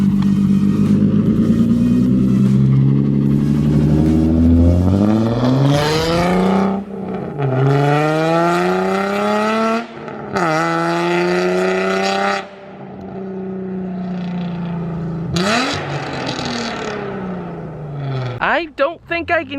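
A modified Nissan Z car with a very loud aftermarket exhaust roars up through hard revs close by, with rising pulls, sharp drops off throttle and crackling bursts toward the end.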